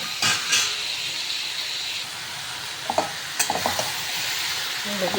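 Vegetables with potato, peas and spinach stems stirred in a hot pan with turmeric, coriander and cumin powder, a continuous hissing sizzle broken by a few quick scraping stirs.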